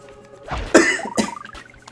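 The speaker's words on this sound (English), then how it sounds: "Oh my god, just stop coughing!" A character in the video game Sly 2: Band of Thieves coughs, a couple of sharp, raspy, throaty coughs up close, with game music tones around them.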